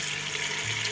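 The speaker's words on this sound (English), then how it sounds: "you're going to fill up a big pan" Steady rush of running water pouring from a tap into a container, loud and continuous for a brief moment.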